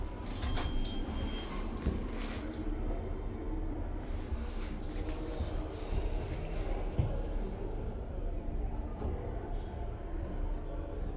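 A modernised 1990 Kone lift in a Barnsley shopping mall hums steadily as its doors slide shut and the car travels, a low continuous rumble with faint mechanical knocks and no speech.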